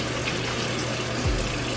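Dove soap bar wet with water and worked between hands, a steady watery rushing and sloshing close up with a brief low thump near the end, no voices.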